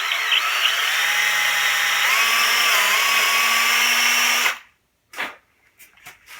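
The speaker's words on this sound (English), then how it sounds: "Once the hole's drilled," A power drill boring a dowel hole into a wooden cabinet during a bus-to-RV conversion, a loud close whine that rises in pitch, then cuts off, leaving a few short knocks.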